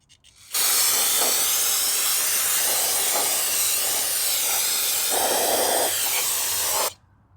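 Brake cleaner blasts in a loud, continuous hissing spray onto a GY6 scooter kickstart case, running close and steady for about six seconds before cutting off abruptly.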